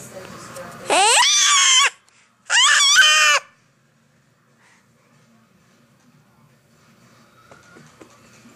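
A baby lets out two loud, high-pitched screams in quick succession, each lasting about a second, followed by near silence with faint household sounds.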